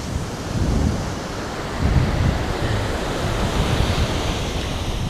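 Ocean surf rolls steadily onto a beach in Zambales, with continuous loud washing noise, a couple of heavier wave crashes, and wind buffeting the microphone throughout.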